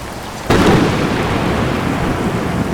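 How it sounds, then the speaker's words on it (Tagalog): A sudden loud crack of thunder bursts in and rolls into a heavy, steady downpour of rain, close and roaring with a deep rumble underneath. "Ayan ang ulan."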